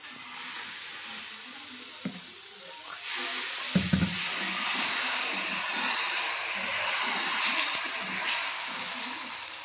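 Dosa batter hits a hot pan with a sudden hiss that builds into a steady, bright sizzle and keeps crackling close by on its own.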